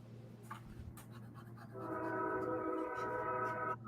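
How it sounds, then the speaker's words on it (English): A train passes at a distance and sounds a long sustained horn that starts partway through, heard faintly over a low indoor hum with small scratching noises nearby. "Oh, I guess you hear that train"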